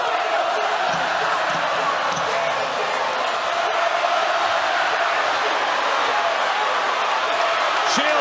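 A packed boxing arena crowd roars through the late rounds of Claressa Shields versus Savannah Marshall, a loud sustained wall of cheering with sharp thuds and bursts mixed in.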